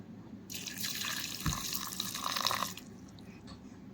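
Rice and lentils are rinsed under running water from a tap in a kitchen sink, a close splashing stream lasting a couple of seconds before stopping, then a few faint drips.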